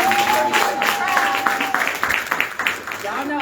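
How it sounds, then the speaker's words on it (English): Audience applause fills a venue, a dense burst of clapping with a voice speaking over it before it fades. "Give yourselves a hand."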